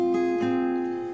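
Guitar chord ringing out, plucked string by string with two soft attacks near the start, then a steady sustain that slowly fades, close and alone.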